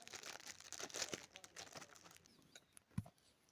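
Crinkling and tearing of plastic packaging as a box of magnetic eyelashes is unwrapped, a busy close rustle easing off toward the end with one soft thump near the close.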